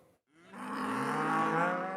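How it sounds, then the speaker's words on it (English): A cow on a farm lets out a single long, full-throated moo close by, rising in after a brief silence and sustaining strongly to the end. "All of the cows on Gwen Fuller's farm have a name."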